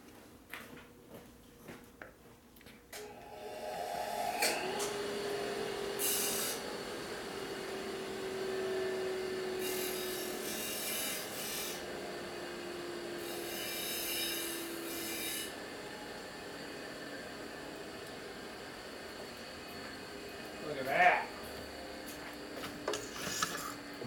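Grinding a sharp edge smooth on a 1967 Harley-Davidson 74ci shovelhead transmission part, a steady rasping hum lasting about ten seconds, then quieter handling noises and a brief louder scrape near the end.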